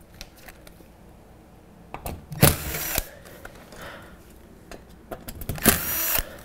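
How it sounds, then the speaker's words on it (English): Power drill backing drywall screws out of a panel during an appliance installation, giving short bursts of whirring separated by quiet handling clicks and rattles. "Remove the drywall screws one by one."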